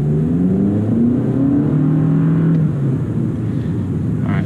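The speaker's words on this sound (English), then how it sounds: "at least you were able to hear the exhaust a little bit" A 2018 Toyota Camry SE accelerating in first gear over speed bumps, its exhaust and engine droning loud and close with a rising then steady pitch, easing off toward the end.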